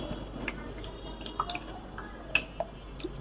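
Pudding mixture strains through a kitchen sieve, scattered wet drips and soft liquid patters landing one after another against a light background hiss, close and fairly quiet.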